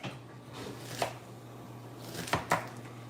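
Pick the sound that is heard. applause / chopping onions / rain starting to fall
chopping onions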